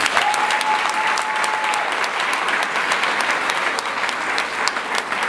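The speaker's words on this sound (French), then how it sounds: "Je vous demande de l'applaudir." An audience applauds at a training certificate ceremony in Côte d'Ivoire, steady loud clapping from many hands that fills the room for several seconds without a break.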